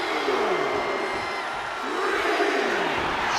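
Arena crowd in the WWE 2K25 wrestling video game cheers steadily throughout, a dense, loud roar with swelling whoops and shouts, while a commentator's voice runs over it.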